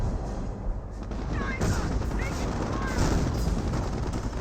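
Firefly tanks firing in Company of Heroes, a steady barrage of booming gunfire and explosions with battlefield rumble throughout, close and dense.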